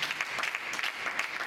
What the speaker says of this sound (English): Somebody give the Lord a hand clap of praise.